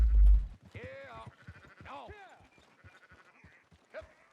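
Sheep in the video game Red Dead Redemption 2 give a couple of short wavering bleats near the start, mixed in with someone talking over them.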